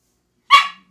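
Small dog chasing a broom gives a single sharp, close bark that trails off quickly, otherwise silence.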